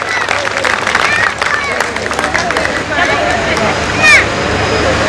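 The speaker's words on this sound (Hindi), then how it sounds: "बस जोरदार तालियां होनी चाहिए" Applause breaks out among guests at a sangeet ceremony, a dense, steady wash of clapping mixed with crowd chatter and voices, holding at an even level throughout.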